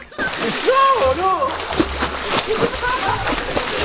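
Splash of someone falling into water, followed by churning and sloshing as voices shout close by.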